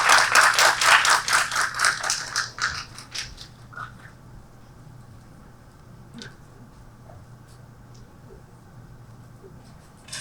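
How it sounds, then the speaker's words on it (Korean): Audience clapping at an education forum session as participants come forward, a dense burst of many hands for about three seconds that quickly fades to a few scattered claps and quiet room tone. "역할 참가자분들 나오실 때 큰 박수 부탁드립니다."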